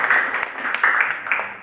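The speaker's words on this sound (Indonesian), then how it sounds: "Kita tepuk tangan untuk" Classroom students clapping together, a brief burst of moderately loud, close applause that swells in a few uneven waves and then tapers off.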